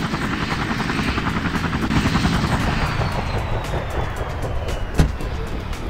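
A rescue helicopter touches down on a runway in the Emergency 4 game with a Dutch mod, its rotor chopping loudly and steadily under a droning engine whine, close and constant, with one sharp thump near the end.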